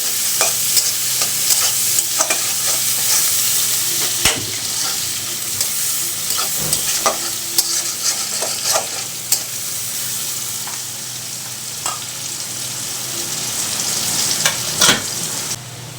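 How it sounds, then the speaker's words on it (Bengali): Onions frying in leftover fish-frying oil give a steady, loud sizzle throughout, with frequent scraping and stirring clicks from a utensil in the pan and no talking. "মাছ ভাজা তেলের ভিতরে দিয়ে দিলাম পেঁয়াজ।"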